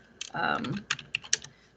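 Quick, irregular clicks of typing on a computer keyboard, close and fairly soft, with a brief muffled sound just before the keystrokes.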